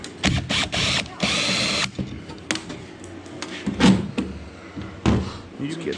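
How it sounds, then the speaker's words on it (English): A power drill whirs in short bursts while tight screws are backed out, close by, with clicks and handling noise between the runs and a person speaking at times. "I'll get them with the drill."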